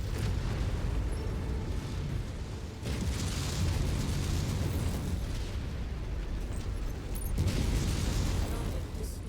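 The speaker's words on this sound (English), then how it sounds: "Why is there more artillery?" Artillery explosions in a battle video game, repeated heavy blasts and rolling rumble in several waves, loud and continuous with debris-like crackle between impacts.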